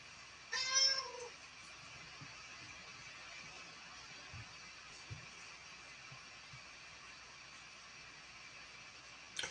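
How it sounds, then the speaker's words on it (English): A house cat lets out a short, clear meow near the start, then only a quiet room hum remains with faint small knocks. "one of my cats is talking to me"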